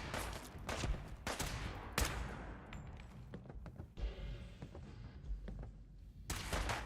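Bursts of gunfire from a Fallout 4 fight, repeated loud shots in clusters across the stretch, some close and punchy, others in rapid volleys, with brief lulls between.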